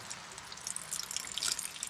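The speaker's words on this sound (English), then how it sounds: "So we're gonna run water there." Tap water runs into a gutter strainer, a steady close-up splashing and trickling with bright droplet patter throughout, growing slightly louder toward the end, with no talking.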